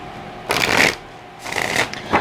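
Two quick bursts of riffling tarot cards, a brief pause between them, with a soft tap at the end; close and fairly loud, no talking.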